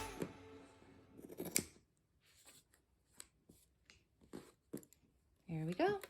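Scissors snip through a handmade holiday ornament in a few short, close crisp cuts, with quiet handling rustle between them and a brief voice near the end.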